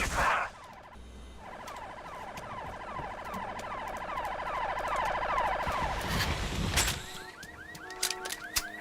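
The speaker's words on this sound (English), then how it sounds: "Listen to the police sirens." Sirens wail steadily in the Halo 3 ODST video game, a rising and falling electronic tone sustained across most of the stretch, loud and layered with other game noise, then sharper repeated siren sweeps near the end.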